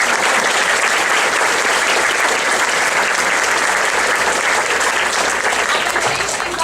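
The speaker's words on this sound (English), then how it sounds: "A round of applause for everybody who has ever helped us." Audience applause at a 5th grade school graduation ceremony, dense and steady clapping from a large crowd that fills the space loudly and continuously.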